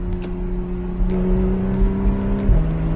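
A 2015 Porsche 911 Carrera 4S six-cylinder engine in Sport Plus mode drones loudly with a throaty exhaust note, holding steady then shifting pitch near the end.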